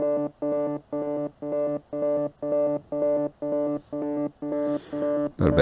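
An Uno Synth synthesizer run through effects plays a string of about a dozen evenly spaced, identical buzzy tones in a steady rhythm, ending in a brief burst of brighter noise.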